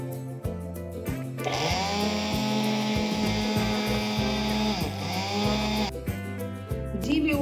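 Electric grinder pulverizing roasted spices for steam roast masala powder, a loud high whine that spins up, runs steadily for several seconds, then cuts back, with rattling pulses at the start and end.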